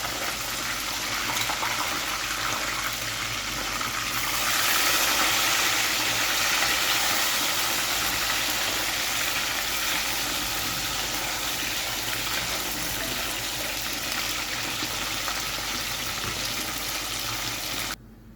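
Escovitch fish frying in oil in a pot, a steady, loud, broadband hiss and bubbling that runs continuously for the whole stretch with no talk.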